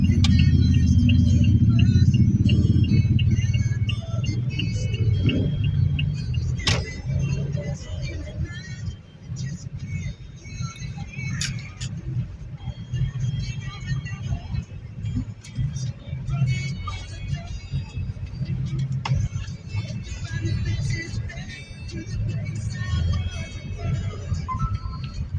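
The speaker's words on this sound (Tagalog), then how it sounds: "May harap dito. Ang daming tricycle eh." Street traffic rumbles steadily past, with motorized tricycles in the mix of engine drone on a road in the Philippines during a high tide. Speech comes intermittently over the continuous nearby road noise.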